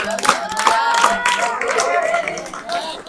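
Scattered clapping from a tuition-class audience greets a student called up to the front, mixed with loud overlapping voices and chatter throughout.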